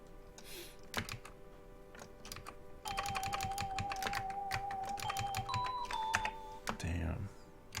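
Clicking and clacking of a computer keyboard during a game development session, rapid irregular keystrokes with bursts of faster typing, heard close up alongside a tonal electronic melody and some faint background noise.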